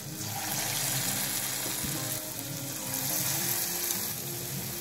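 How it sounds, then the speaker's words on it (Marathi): Mysore bhaji batter dropped by hand into hot oil fries with a dense, continuous sizzle and crackle, close and steady throughout with no talking. "अशा प्रकारे आपल्याला भजी तेलात सोडायची आहे।"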